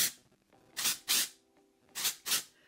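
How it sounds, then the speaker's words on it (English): Four sharp hissing bursts of hairspray, close by, in two quick pairs separated by a short pause, with no talking. "So I give it a good shake, lift up the hair, and spray it."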